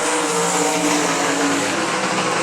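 Sprint race cars at I-96 Speedway roar steadily down the back straightaway into turns 3 and 4 on the final lap of a Great Lakes Super Sprints heat race, a loud, continuous blended engine drone with no break.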